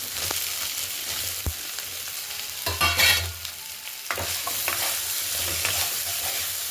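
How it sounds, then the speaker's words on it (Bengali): Cut potatoes fry with flat beans and dried fish in a pan, a steady close sizzle under repeated scraping strokes of the spatula and a louder burst of stirring midway. "এবারে কেটে রাখা আলু দিয়ে ভালো করে মিশিয়ে নিতে হবে"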